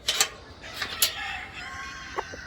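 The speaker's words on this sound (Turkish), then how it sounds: "Bunlar bu işte gurkindimizin civcivleri hepsi arkadaşlar" Turkey chicks on a farm give high, thin peeping calls in short scattered bursts, close by and fairly faint, with a quiet background between chirps.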